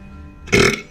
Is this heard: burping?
yes